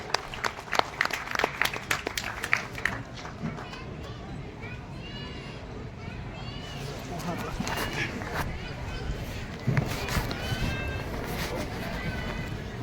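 A seated audience at a literature session applauds the next speaker. Scattered loud claps come first, then settle into softer, steady clapping with crowd murmur and a voice speaking over it.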